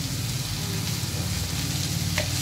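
Okra stir-fried in a pan for a tiffin dish, a dense close sizzle and crackle running evenly throughout with a faint scrape of stirring, over a low background hum.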